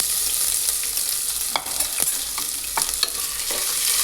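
Ginger garlic paste fries in a pan with bay leaf for egg biryani, a bright, close sizzle with repeated scraping strokes of a spatula stirring it.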